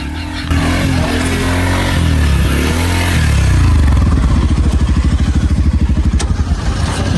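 A motorbike runs over a running phone laid on a road, its engine loud and close, revving up into a steady, rapid pulsing throb that fills the stretch.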